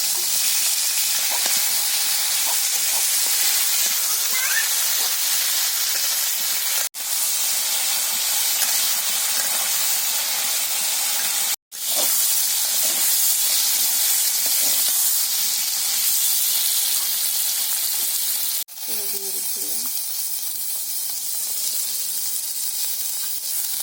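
Pointed gourd (parwal) slices frying in hot oil in a pan, a steady loud sizzle and hiss running throughout with a few brief dips.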